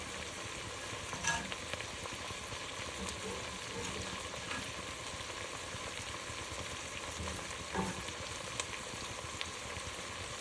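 Oil frying in a pan while cooking sausage for Zuppa Toscana, a steady crackling sizzle that runs throughout at moderate loudness with no talk over it.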